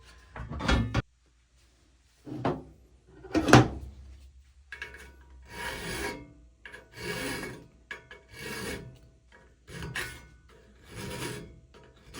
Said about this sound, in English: we'll grind the head of this pin off so that we can punch it out